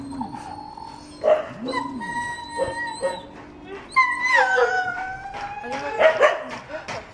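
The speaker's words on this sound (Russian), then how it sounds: "Сейчас у нас собаки, все бездомные" Homeless dogs at a veterinary shelter howl, whimper and bark in overlapping bursts, with several animals close by and some yipping near the end.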